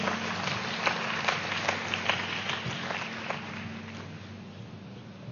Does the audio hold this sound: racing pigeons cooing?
no